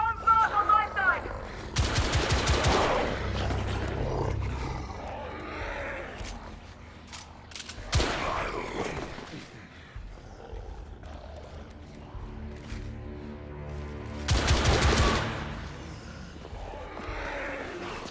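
Gunfire in the video game The Order 1886, with loud bursts of rapid automatic fire recurring between quieter stretches of mechanical noise, alongside voices.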